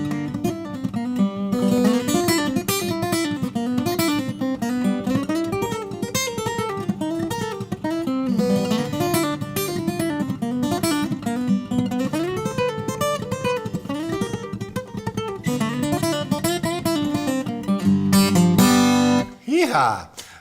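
A guitar lick played at full speed in a steady rhythm, dense and continuous for about eighteen seconds of bright picked notes over a bass line, ending in a loud strummed flourish.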